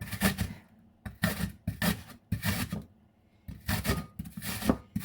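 Fruit being grated by hand on the large holes of a box grater, unpeeled with tough skin: bursts of coarse rasping strokes, five or six in quick succession with short pauses between them, close and fairly loud.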